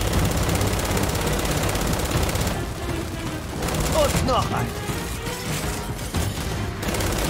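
Rapid bursts of automatic gunfire from the Gears 5 video game crackle continuously in a dense firefight, with someone talking over the shooting.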